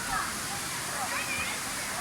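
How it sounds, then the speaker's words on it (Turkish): A steady, continuous roar of water from the high Sabun Çayı waterfall in Düziçi, Osmaniye, Turkey, with voices faintly audible beneath it. "sabun şelalesi bu şekilde arkadaşlar"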